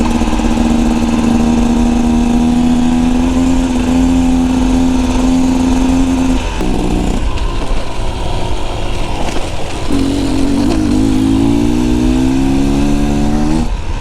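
A 2024 Beta Xtrainer dirt bike engine drones steadily while riding, holding a high rev note, dropping briefly mid-ride, then climbing again as it pulls without a downshift.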